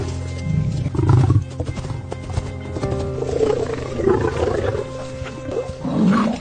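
Lions roaring, a male with a weary lioness in the wild: deep, rumbling roars and growls that overlap and swell repeatedly, loud and close, with animal movement between them.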